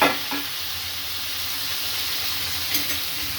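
Paneer cubes frying in a pan give a steady, close sizzle with a soft crackling hiss throughout, a few brief stirring scrapes near the start and end, and no voices.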